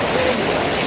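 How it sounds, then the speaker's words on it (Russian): Streams of water gush into a warm outdoor pool in a broad, steady rush that stays close and loud throughout the brief moment. "Бьют ручьи."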